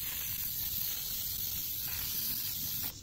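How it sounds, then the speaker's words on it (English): Ageing spray misting from a spray bottle, a continuous close hiss that holds steady for about three seconds before tapering off. "you can see how fine that mist is compared to other sprays you're used to"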